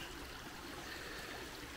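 The River Derwent flowing over stones at a crossing point, a soft, steady rushing wash of water with no pauses, fairly faint and heard alone.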